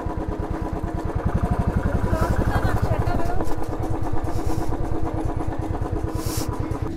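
A motorcycle idles in Mussoorie, Uttarakhand, its engine throbbing in a fast, even chug that stays close and steady throughout, with a voice faintly mixed in.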